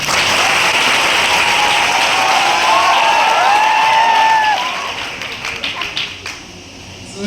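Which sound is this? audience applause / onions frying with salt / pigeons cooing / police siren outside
audience applause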